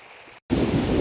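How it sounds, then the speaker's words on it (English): Rushing mountain river pouring over a bed of pebbles, a dense, steady broadband wash heard close by after a brief cut, loud and continuous with a little wind on the microphone. "There's a running river, a lot of pebbles."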